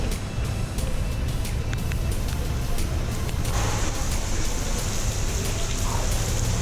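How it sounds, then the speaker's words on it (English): Heavy tropical rain pours at the Batu Caves in Kuala Lumpur, a dense, loud, continuous hiss with splashing, and a faint low rumble of passing traffic underneath. "It's pouring."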